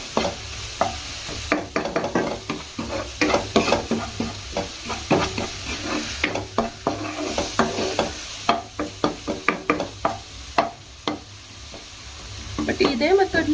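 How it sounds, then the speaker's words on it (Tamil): Beach-style sundal of chickpeas, raw mango and coconut is stirred in a hot pan: a steady series of scraping, clinking spoon strokes over a soft sizzle, close and fairly loud. "இப்போ நம்ம அழகாக இதை வந்து மிக்ஸ் பண்ணிக்கலாம். நல்லா மிக்ஸ் ஆகிக்கணும்."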